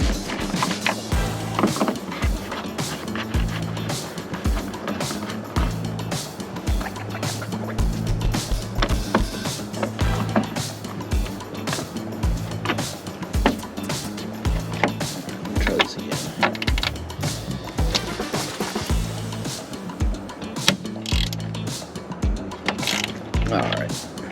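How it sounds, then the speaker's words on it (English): Headlight screws being removed from a 2004 Land Rover Discovery 2, a long run of close ratcheting, whirring tool bursts and metallic clicks with short pauses between them. "Screws coming out nice and easy."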